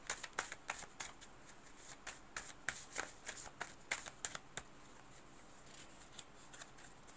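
Tarot cards being shuffled and spread out by hand, a steady run of close, crisp riffling flicks and soft slaps that thin out toward the end, with no voices.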